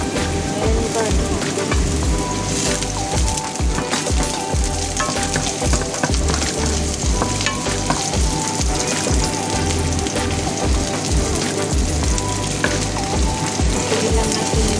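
Onion, garlic and ginger sautéing in a pan give off a steady, close crackling sizzle that runs unbroken from start to finish, with a soft low thumping underneath.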